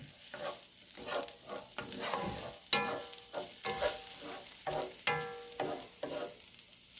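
Nacho filling sizzles and fries in a pan while being stirred, with scraping and clattering stir strokes over a steady crackle, fairly quiet and close.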